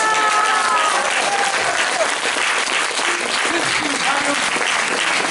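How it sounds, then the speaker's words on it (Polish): Audience applause fills a theatre after an amateur stage performance of Fredro's comedy, dense steady clapping at close range from start to finish, with a few voices faintly mixed in. "Więc duże brawo."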